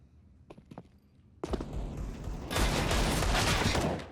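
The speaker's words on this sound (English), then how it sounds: "Desperate wall bangs at A main, but Apex pushing up does find Stewie." Gunfire wall bangs in a Counter-Strike match between Cloud9 and G2 at the ELEAGUE Major 2018, a few sharp shots followed by a dense, loud burst of rapid firing.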